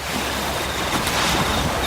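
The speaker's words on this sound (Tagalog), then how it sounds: "Tanging alon lang ng dagat ang maririnig." Sea waves wash onto a shore in a loud, steady rush of surf. A windy hiss fills the whole span, and no one speaks.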